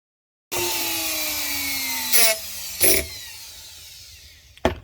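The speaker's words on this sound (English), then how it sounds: "So pretty much did my cuts with the Harbor Freight Dremel" A Harbor Freight Dremel-style rotary tool cutting through wood, a loud steady high-pitched whine that runs for several seconds with a couple of brief bursts of harsher cutting, close up with no talking.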